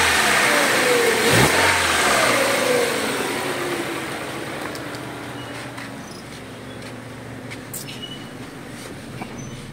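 A Ford Lynx engine with a misfire, smoke and hard-starting trouble runs close by. A sharp rev fades over the first few seconds, and the engine then settles into a steady, even idle.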